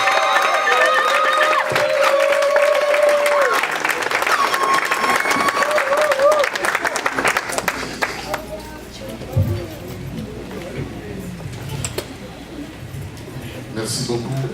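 A congregation at the NGNC Ministries family conference applauds and cheers for the prophet Daniel Kawata, a loud sustained wash of clapping with shouts and voices, fading into scattered claps.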